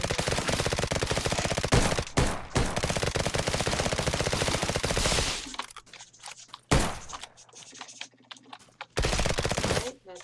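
Weapon fire in the trench-warfare video game Trenches, loud rapid bursts of automatic gunfire with sharp cracks, broken by short pauses and quieter stretches before firing resumes.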